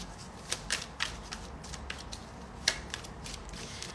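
A deck of cards is shuffled by hand, producing soft repeated riffling and flicking bursts at an uneven pace, faint and close over low room noise.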